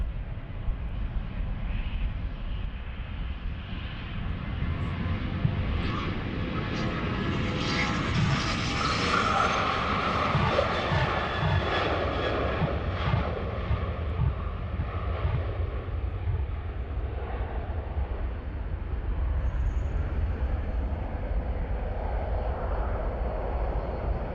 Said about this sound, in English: We're standing at Schiphol Airport, the Polderbaan, runway 36 left, where, as you can see, departures are taking off.